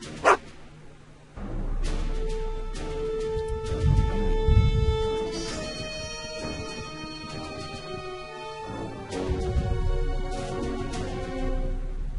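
A dog barks in the Back to the Future video game, a few barks and yips ringing out over a bed of game music.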